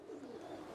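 Pigeon cooing in Ras Al Khaimah, UAE: a single brief, soft, low coo.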